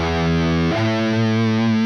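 A distorted electric guitar sounds a sustained two-note interval with a tense, ambiguous quality, the harmony shifting once partway through and ringing on loudly and alone.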